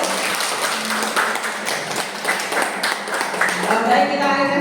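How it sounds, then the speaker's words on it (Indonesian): Applause breaks out at a school event for sharing positive-culture practices at a junior high school, moderately loud clapping mixed with murmuring voices and some talk, continuing throughout. "Tepuk tangannya dulu."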